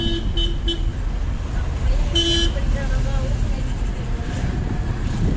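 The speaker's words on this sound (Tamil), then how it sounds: "ஹார்ன் அடிச்சுட்டு போகிறாங்க" Car horns honk in busy traffic, heard from inside a driving-school car, several short toots and one longer blast over a rumbling road and engine noise, with voices talking.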